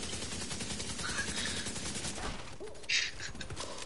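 Machine gun fire from The Division 2, a dense sustained burst filling the clip, with a sharper louder crack near the end over busy background noise.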